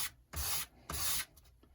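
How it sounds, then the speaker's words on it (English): Flat sandpaper rubs across the edges of a wooden model rocket fin in two distinct strokes, each a short, close, soft scraping hiss separated by a pause, with no talk. "just take some flat sandpaper, and let's just round off the corners first."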